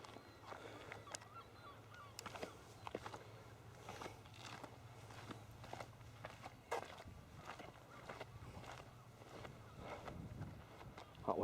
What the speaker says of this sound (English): That wind's got up as well.